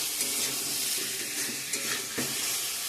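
Sizzling spiced paneer and potato curry in a pan, a dense, close, steady hiss with a few brief stirring scrapes and splashes.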